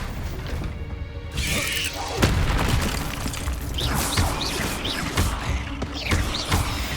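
A Descendo spell in Hogwarts Legacy slams down with a heavy thud, followed by dense, noisy game combat with scattered impacts and whooshes.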